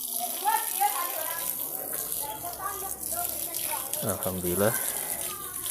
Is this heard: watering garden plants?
yes